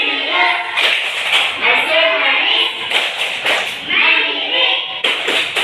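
Standing pupils in a third-grade class perform the PPK clapping chant, rhythmic bursts of group claps interleaved with chanted voices, loud and close.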